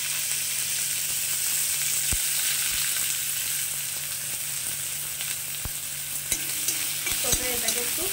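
Chopped onion fries in hot oil with cumin seeds, giving a steady close sizzle broken by a few sharp scrapes and knocks from a stirring utensil.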